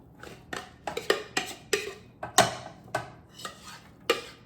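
Food is dumped and scraped into a lightly sprayed casserole dish, a run of about ten clattering, thudding utensil-on-dish impacts spaced roughly half a second apart, close and fairly loud with no talking.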